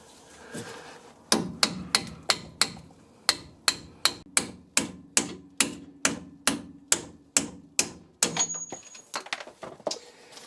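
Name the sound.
hammering a drift to knock a bolt out of a Porsche 911 shock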